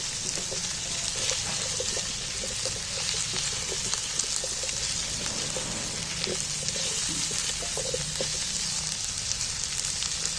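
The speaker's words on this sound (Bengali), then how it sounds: "এইবার আমি তেলের মধ্যে একটু পেঁয়াজের সাথে মিক্স করে খুব ভালো করে মেখে নিচ্ছি" Onions mixed into hot oil sizzle and fry steadily for the whole stretch for a chicken dish, a dense continuous crackle close to the pan with faint scattered stirring clicks and no voices.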